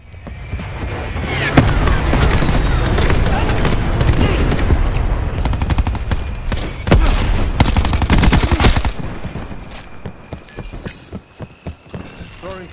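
Artillery fire and battle noise from the Call of Duty: Black Ops 4 story mode: rapid cracks, heavy booms and shattering impacts pile up densely, then thin to scattered bangs near the end.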